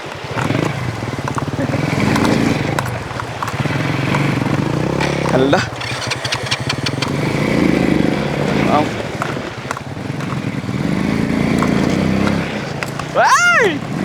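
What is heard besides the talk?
motorcycle crossing a river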